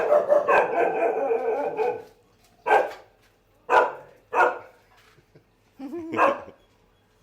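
A rescue dog in Thailand barks in separate loud bursts, one long volley followed by several single sharp barks spaced a second or so apart, close by with no talk.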